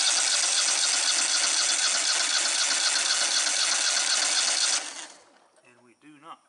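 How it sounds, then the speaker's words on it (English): A Kohler engine cranks over steadily with a continuous loud mechanical whir for several seconds, a spark tester fitted to cylinder one, then stops abruptly, followed by someone speaking quietly. "we're gonna spin it over and see if we have spark."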